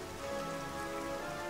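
Steady rain falls on a night battlefield in the strategy game Strategic Mind, a dense continuous patter of drops hitting surfaces, even and unbroken throughout with no voices.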